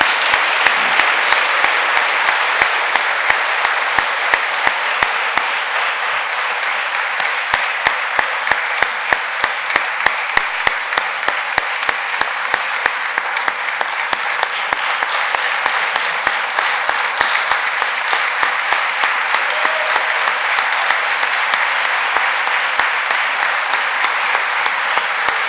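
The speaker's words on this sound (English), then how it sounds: "Let's give one more big round of applause for our class of 2021." Sustained applause from a standing audience at a college athletic hall of fame induction ceremony, dense steady clapping filling the hall at full volume throughout.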